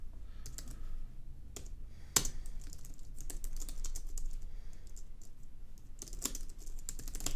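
Typing on a computer keyboard while entering ad headlines, a steady close patter of key clicks with a few sharper taps and short pauses, no speech.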